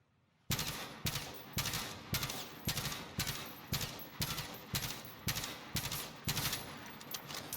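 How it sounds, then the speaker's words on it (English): Gunfire in the video game Modern Warfare comes in regular short bursts, about a dozen loud, sharp clusters of shots evenly spaced after a sudden start, with nothing else heard. "it's a lot more contained and a lot more in one sort of area, just burst firing"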